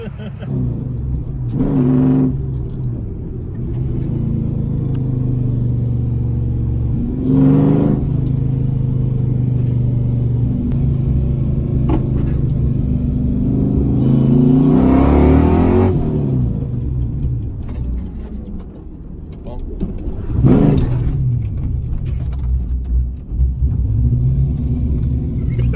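A loud Ford Mustang V8 idles with a deep rumble and is revved hard several times in sharp bursts after being bump started, heard from outside the car.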